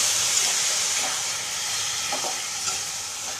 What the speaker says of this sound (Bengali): এবার কপিটা ঢেলে দেবো, কষিয়ে নেবো মশলার সঙ্গে।